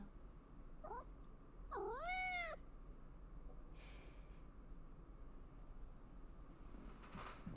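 Miso the cat in Life is Strange: Double Exposure lets out a short meow, then a longer rising-falling meow a second later, clear and close against a quiet background, with a faint soft thump afterward.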